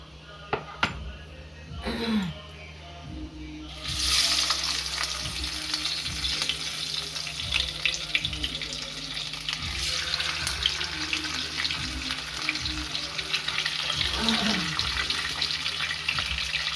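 Small rui fish coated in turmeric and cornflour sizzles steadily in hot oil, a dense continuous crackle rising after a few seconds and holding close and loud, with faint rhythmic pops underneath.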